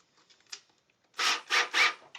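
A countersink bit is pressed into a block of wood in a luthier's workshop. A few faint scrapes come first, then three loud, close grinding bursts in quick succession.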